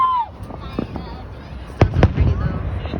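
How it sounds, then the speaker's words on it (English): Backyard fireworks go off in a few sharp pops and crackles after a brief whistling rise, close and fairly loud, with rustling and a faint background voice. "So you get to watch some of the fireworks together."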